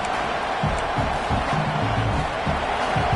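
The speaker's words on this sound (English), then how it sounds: "This crowd is trying to inspire this defense to make a big red zone stop." Football stadium crowd roaring to rally the home defense before a red zone stand: a steady, loud wash of massed voices with rhythmic low thumps under it, holding constant throughout.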